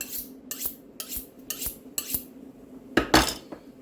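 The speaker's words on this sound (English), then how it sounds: "I like to just put it on the steel quick, bring my edge back" A fillet knife is drawn along a sharpening steel in quick, evenly spaced metallic swipes, about one every half second, ending in a faster pair of strokes. The sound is close and clear, with no voices, while sea bass is being filleted.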